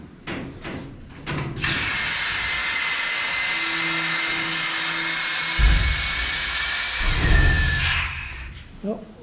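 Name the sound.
sandblasting parts in a blast cabinet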